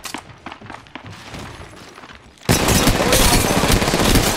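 Heavy gunfire in Apex Legends Mobile, scattered shots at first, then a sudden loud, dense burst of rapid automatic fire filling the last half close up.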